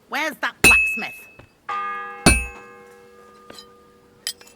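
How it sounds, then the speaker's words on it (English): A church bell tolls in the medieval game Kingdom Come Deliverance 2, with a couple of loud, clanging strikes whose tones ring out and slowly fade, among a few lighter knocks. "The first bell."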